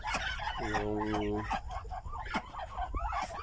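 Muscovy duck hen with her newly hatched ducklings, a short honking call rising over close, noisy poultry chatter while someone talks nearby.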